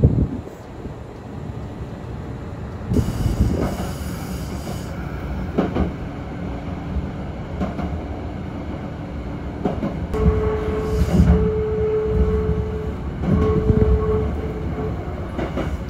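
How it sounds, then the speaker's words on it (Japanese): Rumbling Kintetsu rapid express train noise with rail clatter and mechanical hums, steady and fairly loud, heard on board, with a tonal whine appearing near the end as it slows arriving at Shimoichiguchi Station. "続きまして列車は下市口駅に到着です。"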